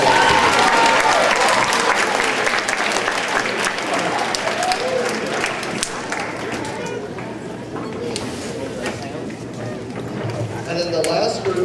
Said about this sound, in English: Let's give our jazz students another round of applause.